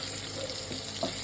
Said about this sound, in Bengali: এই তেলের মধ্যে আমি যে আলুটা কেটে রেখেছিলাম সেই আলুটা এবার দিয়ে দেবো, দিয়ে লাল করে ভেজে দেবো।